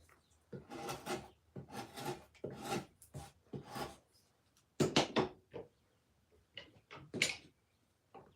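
A big 1-inch to 1.5-inch woodturning gouge cutting wood on a lathe, giving rough, rasping scrapes in short repeated passes, close and moderately loud with pauses between cuts.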